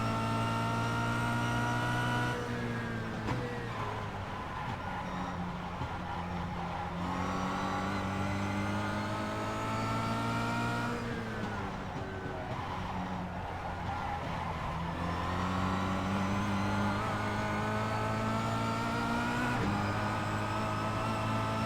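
A Kia Cup race car's engine howls through a race at Zolder circuit, heard from on board as loud, continuous droning that climbs through the revs and dips at each shift and braking zone, with no talking.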